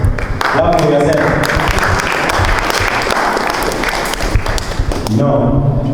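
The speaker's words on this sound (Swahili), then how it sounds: "Nataka mjichotee makofi. Clap for yourself." Students at a youth economic empowerment project's final day clap for themselves, a dense burst of applause that starts right after a voice and fades out near the end.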